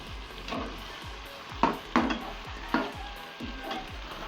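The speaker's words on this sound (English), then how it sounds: "I'm going to stir this and let this fry." Onions frying in a pan, a quiet steady sizzle with a series of sharp scraping and tapping strokes as a utensil stirs them, heard close with no voices.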